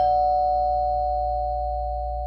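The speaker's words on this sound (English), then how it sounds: "The doorbell rings." A doorbell sounds one sustained electronic chime tone that hangs steady and slowly fades, heard alone over a low background hum, with no voices.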